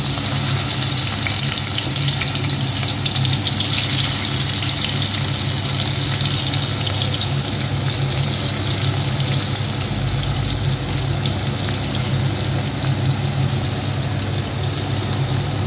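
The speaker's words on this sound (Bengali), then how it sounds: "তেলটা যে ভালো মতো গরম হয়েছে সেটা তোমরা আওয়াজটা শুনেই বুঝতে পারছো, কেমন একটা ছ্যানপড়পড় হওয়া" Prawns fry gently in hot oil, giving a constant hissing sizzle that runs unbroken for about fifteen seconds, with a low steady hum beneath it and no voices.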